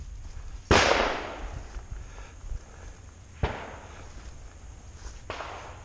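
A DoubleTap .45 ACP derringer with unported barrels fires one sharp, loud report that rings out and decays, followed by two fainter, distant pops.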